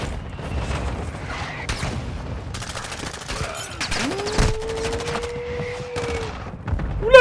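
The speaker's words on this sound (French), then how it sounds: "Oulala, ça tire" Gunfire in the battle-royale video game Warzone, bursts of rapid shots crackling through a busy game mix, with a heavier volley near the end.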